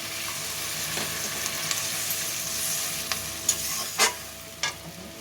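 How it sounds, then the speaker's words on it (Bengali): A potato filling in a pan keeps up a constant loud sizzle as water goes into the pan, with a few sharp clicks and utensil scrapes near the end. "এবার জল দিয়ে দেবো।"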